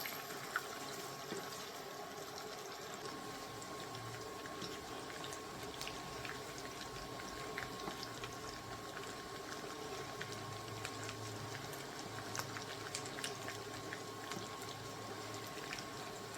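Seven or eight garlic cloves and onion fry in oil for a beef bhuna, giving a faint, continuous bubbling hiss that stays low and even throughout, with no voices.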